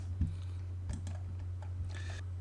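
A few separate keystrokes tapped on a computer keyboard while entering an AutoCAD command, soft close clicks spread over about two seconds over a low steady hum.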